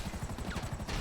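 Rapid bursts of gunfire in GTA Online, a dense continuous barrage of shots during a helicopter fight, loud and close with no talking.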